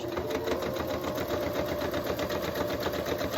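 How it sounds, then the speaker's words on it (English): A sewing machine runs a straight stitch down the edge of a fabric fringe on a candy cane cowboy ornament. It makes a steady, rapid mechanical whir with an even rhythmic clatter, close and continuous. "Little straight stitch, and you sew just down the outside of the fringe."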